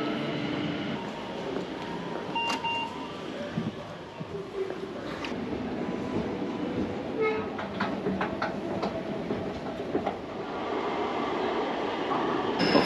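A Rotterdam metro train on line B to Hoek van Holland rumbles steadily close by, with faint metallic squeals and clicks from the wheels over the constant noise.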